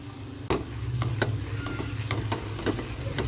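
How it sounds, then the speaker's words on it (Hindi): Hot tempering hits a pan of besan halwa and sizzles loudly, settling into a steady frying hiss with repeated scraping and stirring strokes, close and continuous, without any voices. "अभी हम हलवे को तड़का लगाएंगे।"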